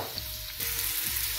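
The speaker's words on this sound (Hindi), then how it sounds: "इसको तेज़ आँच पर 5 मिनट के लिए हम फ्राई कर लेंगे।" Potato, green peas and carrot frying over high heat in a pan, giving a dense, continuous sizzle that swells slightly partway through the short moment, close up with no voices.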